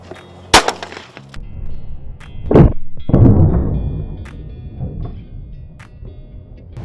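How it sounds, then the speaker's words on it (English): Two sharp .40 caliber gunshots strike a wall section in a penetration test, each a loud crack followed by splintering wood and a lingering rumble. "we got shot number 2 with the 40 cals"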